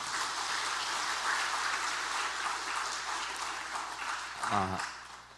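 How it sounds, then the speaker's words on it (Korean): Congregation applause during a Sunday church service, a steady broad wash of clapping filling the whole clip, with a short vocal burst near the end. "박수 한번 해주시죠"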